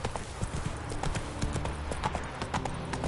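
Horse hooves gallop in The Witcher 3 game, a rapid, steady clip-clop rhythm heard up close and loud throughout the short stretch.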